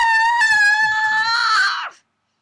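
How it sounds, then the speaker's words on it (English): A dinosaur screech from the Phoenix Wright: Ace Attorney courtroom game, a loud, high, harmonic shriek lasting about two seconds that climbs in pitch toward the end and then cuts off sharply, with no voices. "That was a dinosaur screech"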